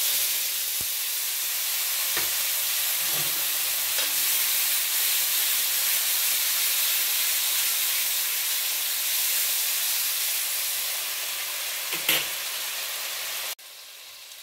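Ground spices (cumin, chili and turmeric powder) with a spice mixture frying in a pan, a steady close hiss and sizzle throughout, with a few soft knocks from stirring.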